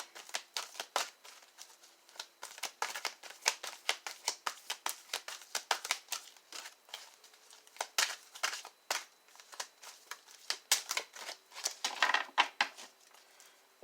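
Tarot cards being shuffled by hand, a long run of quick papery riffles and flicks in an uneven rhythm, close and clear without talk.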